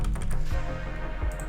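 Keys on a computer keyboard are tapped in short bursts at an uneven pace, heard close and clear over a low background hum.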